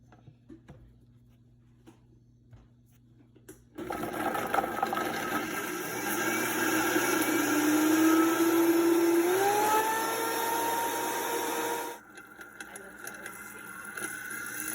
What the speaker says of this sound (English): Just to get the blending going.